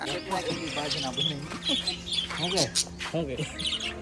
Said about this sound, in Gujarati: અહીંયા પિંજરાવાળા પોપટ જોવા લઈ આવેલા